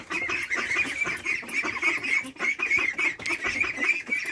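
Geese and other fowl honk repeatedly in a busy, overlapping chorus, nearby and fairly loud, the calls coming in quick irregular bursts throughout.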